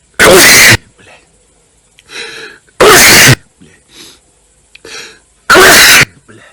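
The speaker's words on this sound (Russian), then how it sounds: "Будь здоров." Three loud, explosive sneezes arrive at roughly even intervals, each a sharp full burst, with quieter breathy sounds and faint murmurs between them.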